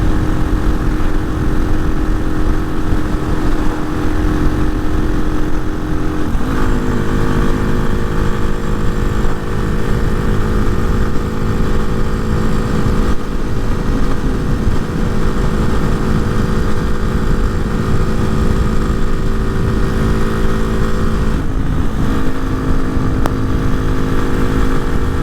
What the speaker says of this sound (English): power on the top end doesn't feel like a whole lot more than the other Hawk engine right now